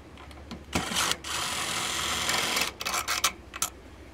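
A power screwdriver whirs in a steady burst lasting over a second, backing out the mounting screws on a Suburban RV furnace, with shorter clicks and bursts before and after.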